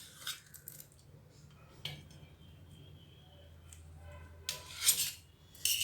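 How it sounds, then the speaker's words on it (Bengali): A kitchen knife slices boiled eggs on a plate, giving soft scattered clinks and taps of the blade against the plate, quiet and close, with a few sharper clatters near the end. "চাকু ডিমটাকে পিস করে নেব"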